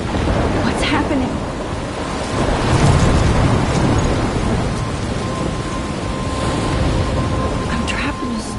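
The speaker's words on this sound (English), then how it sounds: "I'm trapped in a storm?" A thunderstorm in the video game Life is Strange, with steady heavy rain hissing throughout and deep rolling thunder swelling in the middle, loud and enveloping.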